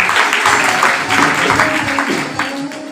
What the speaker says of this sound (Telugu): గట్టిగా చప్పట్లు కొట్టాలని ఆనందించున్నాను